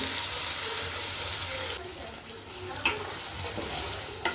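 Ground tomato chutney paste sizzles and is stirred in a hot pan, a steady frying hiss with a few sharp clicks of a spoon against the pan.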